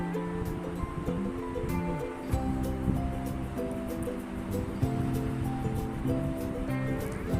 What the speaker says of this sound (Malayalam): കടുകിട്ട് അത് പൊട്ടിക്കഴിഞ്ഞിട്ട് കറിവേപ്പില ഇടുക